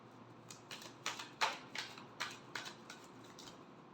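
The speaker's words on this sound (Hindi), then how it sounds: "Last shuffle." Tarot cards being shuffled by hand in a quiet room, a series of crisp papery riffles and slaps repeating every half second or so, close and fairly soft.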